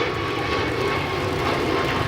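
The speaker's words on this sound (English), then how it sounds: "let's watch this 767 arrive here from Louisville, Kentucky" A Boeing 767 arriving at O'Hare from Louisville, Kentucky, its engines a steady, loud broadband roar with no break, alone and without talk.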